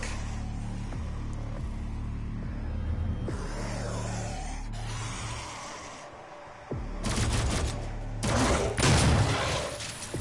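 Gunfire in the video game DOOM, bursts of close, loud shots coming in rapid volleys, heaviest near the end, over a continuous low game rumble.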